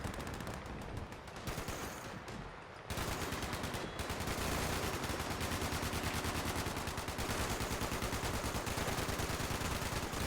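Sustained automatic gunfire in Fallout 76 rattles out as a loud, rapid stream of shots. A brief lull comes early, then firing runs nearly nonstop to the end.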